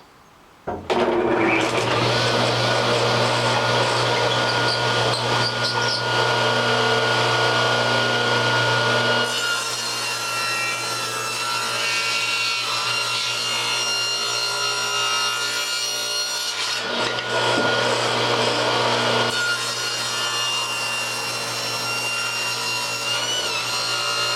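A power saw cutting thin quarter-inch strips of poplar wood for a turkey call, a steady loud whining cut that runs continuously, pausing briefly twice before resuming, close up with no talking.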